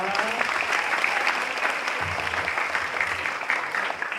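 A stand-up comedy crowd in Belayu breaks into applause, a dense, steady patter of clapping filling the room from start to finish, with faint murmuring underneath.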